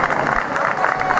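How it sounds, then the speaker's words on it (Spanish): An audience at an outdoor flamenco velá in Arcos de la Frontera breaks into applause for the guitarist and singer, a brief, dense wash of steady clapping. "Un fuerte aplauso para ellos."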